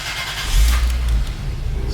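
Toyota JZX100 Chaser engine starting after a new timing belt: a short cranking burst swells into a deep, loud idle rumble close by, with no voices.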